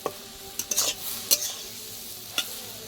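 Water spinach (kalmi shak) and prawns sizzle steadily in a pan, with sharp scraping stir strokes from a spatula at uneven intervals, close and moderately loud. No voices.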